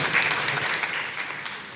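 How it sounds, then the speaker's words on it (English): Audience applause for mothers at a gathering of Nyanza women professionals attended by the US ambassador, a steady wash of many hands clapping, fairly loud and continuous with no talk over it. "So round of applause for moms."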